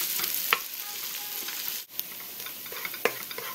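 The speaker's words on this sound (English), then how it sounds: "you're going to add your shallots. You're going to start frying them up." Shallots sizzle and crackle in hot oil in a pan, a close, steady frying hiss with occasional sharper pops and a brief stir, no talk.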